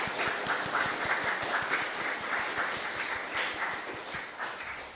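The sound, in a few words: church congregation applause blessing a couple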